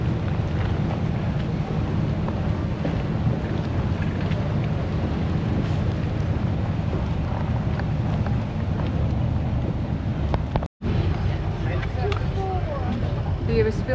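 A boat runs on a windy sea off Thailand, with continuous engine and water rumble and wind buffeting the microphone, steady and close, with one brief dropout near the end.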